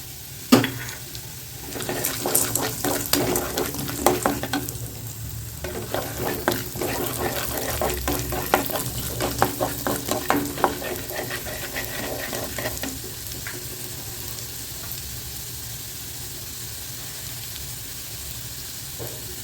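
Roasted gram sizzles and fries in a pan for a spicy Tamil kara chutney while a spoon stirs and scrapes it, the crackling busiest in the middle and easing toward a quieter simmer at the end.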